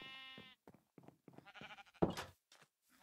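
Sheep bleating in Minecraft, several short wavering blocky bleats in a row with small gaps, fairly quiet and without talk.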